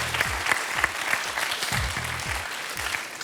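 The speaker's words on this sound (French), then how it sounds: "Applaudissements pour Dedo, en tout cas." A TV game show studio audience applauds for a contestant, a full, sustained burst of clapping that stays steady throughout, with a rhythmic low thumping pattern running underneath it.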